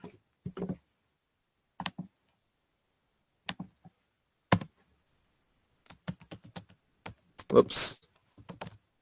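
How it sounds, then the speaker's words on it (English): Someone types on a computer keyboard in scattered bursts of clicks, sparse at first and then faster. A brief word is spoken partway through. "I'll type that in here."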